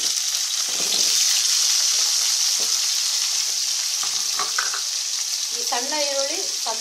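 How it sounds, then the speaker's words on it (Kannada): Small peeled onions sizzle steadily in a little oil for Iyengar-style onion gojju, a close, continuous frying hiss with light stirring clicks and scrapes near the end. "ಸ್ವಲ್ಪ ಎಣ್ಣೆಯಲ್ಲೇ ಫ್ರೈ ಮಾಡ್ಕೊಳ್ಳೋಣ."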